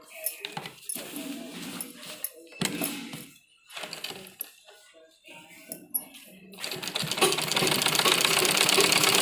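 A sewing machine stitches a kurta pocket in short, broken bursts among handling clicks. It then settles into a louder, continuous run near the end, with no talk.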